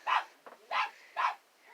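Real dogs bark back at a man fake-barking at them outside a Goodwill outlet, three sharp, fairly close barks in an even rhythm with a softer yelp between the first two.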